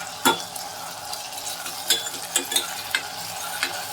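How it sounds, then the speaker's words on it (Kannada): Chopped tomato fries in a pan for a vegetable saagu, giving a steady close sizzle broken by several sharp scraping clinks of a spatula as it is stirred, with no voices. "ಇದಕ್ಕೆ ಒಂದು ಚಿಕ್ಕದಾಗಿ ಹೆಚ್ಚಿಟ್ಟಿರುವಂತಹ ಟೊಮೆಟೊ ಹಾಕಿಂದೆ ಒಂದ್ಸಲ ಫ್ರೈ ಮಾಡಬೇಕು."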